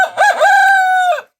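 An Aseel rooster crows once, close and loud, a single rising-then-held call lasting just over a second and ending abruptly in silence.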